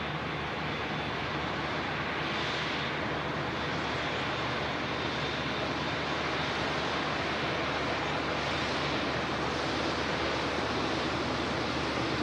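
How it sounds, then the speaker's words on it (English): A TUI Boeing 787 Dreamliner taxis at Manchester Airport, its engines a steady, broad roar that fills the whole span without a break. "Another TUI Dreamliner taxiing out here."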